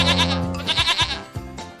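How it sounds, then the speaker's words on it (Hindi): A goat bleats in a few quavering, nasal cries one after another, loud and close, with no talk around them. "मुझे तो बकरी की आवाज सुनाई दे रही है।"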